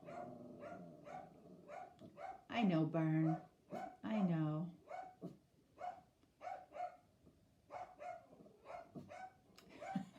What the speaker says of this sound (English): I'm just waiting for Boogie to stop barking.